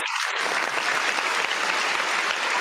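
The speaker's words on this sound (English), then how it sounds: "We should also do a round of applause" Loud, continuous audience applause for a 49ers player fills the whole stretch as a steady, dense wash of clapping with no pauses.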